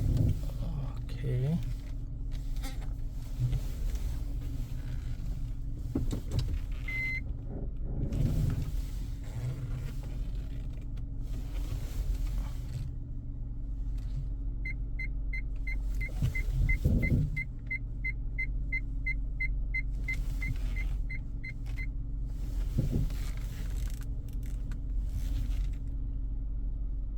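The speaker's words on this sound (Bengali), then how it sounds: "খুবই ছোট জায়গার মধ্যে পার্কিং করা লাগতেছে, খুবই সাবধানে দেখেন।" A car reverses slowly into a tight parking space on a Korean street: a low engine rumble runs under a steady series of rapid parking-sensor beeps inside the cabin.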